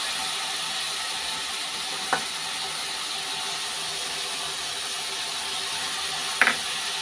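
Spices with tomato, cumin and turmeric fry steadily in a pan, a constant bright sizzle with two short clicks of a utensil against the pan and no voices.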